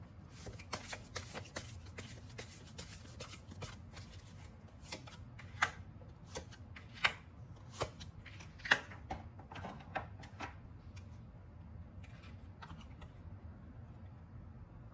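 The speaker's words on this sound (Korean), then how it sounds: "그럼 이 관계에 대한 조언 카드 한번 뽑아보도록 할게요." Tarot cards are shuffled by hand at close range for about fifteen seconds, a continuous soft riffling with quick crisp snaps and flicks coming in an irregular rhythm, with no one talking.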